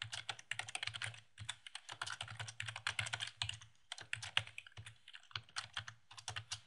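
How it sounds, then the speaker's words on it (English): Rapid typing on a computer keyboard, close and quiet, with bursts of clicking keystrokes separated by brief pauses, no voices. "To type inside of a cell, just click inside a cell to start typing."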